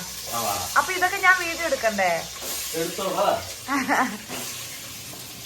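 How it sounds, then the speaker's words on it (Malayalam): Hot oil sizzles steadily in the background as onions fry, while a person talks over it in short bursts. "എണ്ണ വെച്ചിട്ട് സബോള ഇട്ടാ."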